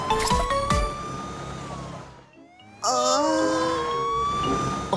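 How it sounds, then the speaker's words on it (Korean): An ambulance siren in a children's cartoon, loud and close: a wailing, rising and falling electronic siren that briefly dips almost to nothing before surging back at full strength, with no talking over it. "구급차가 달려요."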